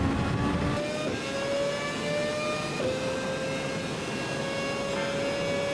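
A Super Formula open-wheel race car at Suzuka in Gran Turismo 7 howls at full throttle, its high-pitched engine note climbing steadily through the gears with brief shift dips, loud and continuous with no talking.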